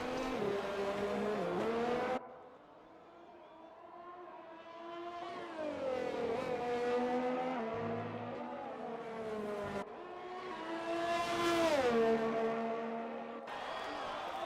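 A Ferrari Formula 1 car on medium tyres in a racing video game at Zandvoort screams through gear changes, its high engine note rising and dropping with each upshift and braking zone, loud and continuous.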